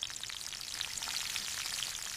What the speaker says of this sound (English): I fry fish.